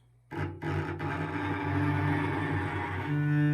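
A harsh, crunchy bowed cello tone from too much bow weight and too little speed, scratchy and strained, starting with a couple of rough attacks and then grinding on steadily.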